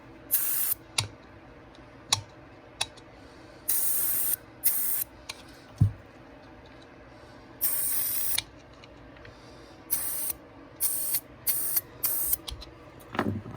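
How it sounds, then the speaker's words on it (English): Carb cleaner sprayed from a broken nozzle onto an ATV carburetor, heard as repeated short, loud hissing bursts of uneven length with quiet gaps and small clicks between them. "I need to use the carb cleaner, but I accidentally broke this, so we'll try to use it somehow"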